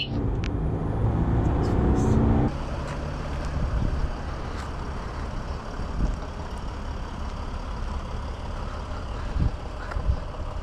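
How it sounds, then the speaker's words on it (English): A 2007 Mercedes E320 BlueTec diesel sedan drives along, a louder engine pull for the first couple of seconds easing to a steady low cabin drone with road noise and occasional small knocks. "Today we're driving a 2007 Mercedes E320 BlueTec. This is the diesel version"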